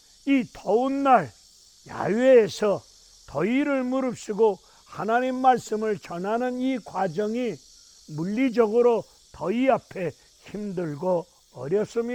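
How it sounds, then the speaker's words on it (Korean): Cicadas buzz outdoors on a hot day, a constant high, hissing drone held faintly in the background while someone speaks at length close to the microphone. "매미 소리는 시끄럽게 들려옵니다."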